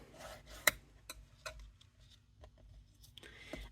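Soft rubbing strokes burnish a freshly scored paper fold on a Stampin' Up Paper Pumpkin craft piece. They come as faint, intermittent scrapes with a few sharper taps in a quiet room.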